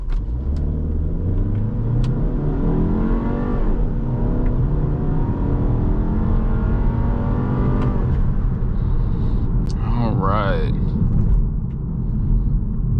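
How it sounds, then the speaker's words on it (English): A 2020 VW Passat R-Line sedan pulls away from a light, its engine rumble rising steadily under continuous talk from the driver inside the cabin, with road and engine noise throughout. "I'm going to give it some gas when the light turns here."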